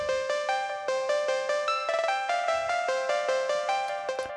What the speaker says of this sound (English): a little stutter effect